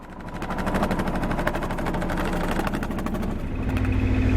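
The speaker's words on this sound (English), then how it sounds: "We got a perfectly working engine there." A 1978 Yanmar YSB8 marine diesel engine, in a boat that had sat flooded for over ten years, runs with a loud, rapid, even chugging close by. Its pitch drops and deepens near the end.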